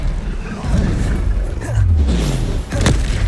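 A Confringo blasting spell detonates in Hogwarts Legacy, a deep booming explosion with a low rumbling tail that swells midway through the clip, surrounded by other combat noise.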